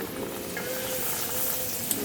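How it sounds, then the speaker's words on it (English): Spinach and zucchini sizzle steadily in a hot skillet, a close, continuous frying hiss. "Oh yeah, you hear that sizzle?"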